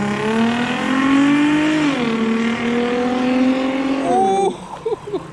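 Infiniti G35 fitted with a Z1 Motorsports JWT Pop intake revs up hard, a loud sustained engine tone climbing and holding pitch before dropping off, followed by brief faint voices near the end.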